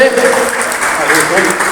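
A short burst of crowd clapping at a family reunion gathering, fairly loud and close, with voices chattering over it.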